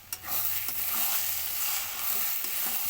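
Food frying in a pan as it is stirred with a steady sizzle, scraping strokes breaking through the crackle, close and fairly loud with no talking.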